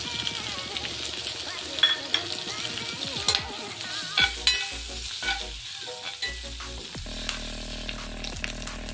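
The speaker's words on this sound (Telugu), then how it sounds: "మొత్తం బాగా మిక్స్ చేసుకుందాం" A spoon stirring dal with asafoetida in a pan, scraping in repeated strokes over a steady sizzle of frying, close and clear with no speech.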